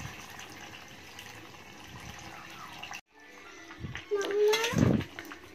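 Hot water poured into chicken kosha in a pan, a splashing pour rising after a brief gap, with voices and kitchen noise around it.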